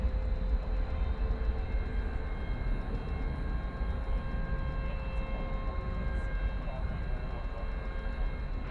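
An American Airlines jet taking off at night at DFW airport gives a steady, distant low roar that holds throughout, with faint tonal hums above it and no clear talk.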